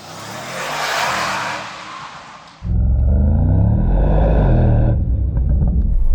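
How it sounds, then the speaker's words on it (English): A Mercedes-AMG GT 63 S V8 engine roars and builds as it accelerates through a tunnel, a deep rumbling drone swelling after a brief quieter stretch of road noise. "I'm going to go through this tunnel and accelerate, so you'll hear the V8 engine"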